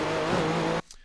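Nissan GTP ZX-T race car engine in iRacing at Road Atlanta, screaming loud and steady at full throttle for most of a second, then cutting off abruptly into near silence with a faint high blip.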